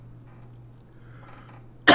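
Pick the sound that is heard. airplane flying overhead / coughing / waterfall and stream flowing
coughing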